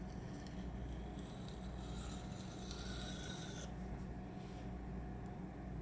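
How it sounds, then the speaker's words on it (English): Steady rasping strokes of a Spyderco Sage 5 knife blade in M4 steel across a sharpening stone, close and continuous, with a soft scraping texture throughout. "gently pass the knife the opposite way a few times to knock off that burr"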